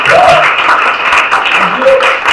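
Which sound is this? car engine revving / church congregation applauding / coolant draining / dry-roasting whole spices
church congregation applauding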